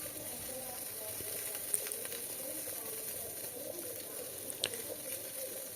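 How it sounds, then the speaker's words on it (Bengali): Chopped onion, ginger, garlic, tomato and green chillies fry gently in a pan over low heat, giving a steady soft sizzle throughout with a couple of faint utensil taps and no talking. "লো আঁচে এগুলোকে অল্প ভেজে নেব"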